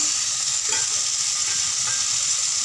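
Brinjal and spices sautéing in a pan, a steady close sizzle with soft scraping stirs, continuous and even in loudness.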